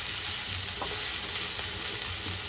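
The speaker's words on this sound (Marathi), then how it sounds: "हे मिरचीचं वाटण सुद्धा कांद्यामध्ये व्यवस्थित असं परतून घ्यायचं" Chili-garlic paste with cumin sautéing with onions in hot oil for eggplant bharit, a steady close sizzle running throughout with faint stirring scrapes and no speech.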